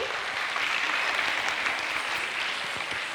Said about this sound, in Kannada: ಒಂದ್ಸತಿ ಜೋರಾಗಿ ಚಪ್ಪಾಳೆ ತಟ್ಟಿ